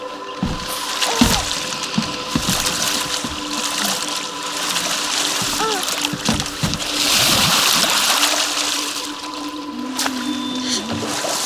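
Boat gliding on a river with gentle waves in the God of War Ragnarök video game, with continuous water lapping and sloshing throughout, broken by brief splashes and a low steady wash.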